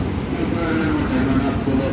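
Lokshakti Express passenger train running between Ahmedabad and Mumbai Bandra, a steady loud low rumble of the moving train with continuous rattling throughout, heard from on board.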